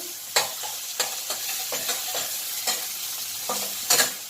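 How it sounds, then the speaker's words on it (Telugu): Tomato and green chillies frying in a pan for street-style vegetable fried rice, with a loud close sizzle broken by a series of sharp spatula scrapes and knocks at an uneven rhythm, no voices. "ఇది ఇట్లా ఫ్రై అవుతూ ఉండాలి"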